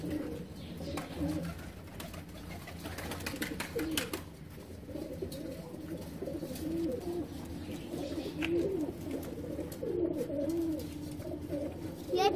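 A pigeon near the camera coos in repeated soft, low phrases over a quiet background, with a few faint chirps.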